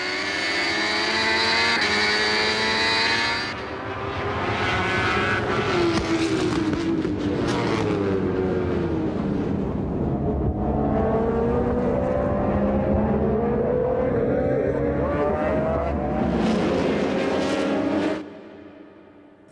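A Kawasaki Ninja ZX-RR MotoGP race bike screams around a circuit during its debut race, with high-revving engine notes sweeping up and down as the bike races past amid other machines.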